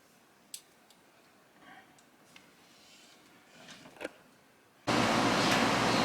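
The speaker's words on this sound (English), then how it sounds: "you can hear the air conditioner running" After a quiet room with a few faint clicks and taps, an air conditioner starts into a loud, steady, close whooshing roar that fills the remainder.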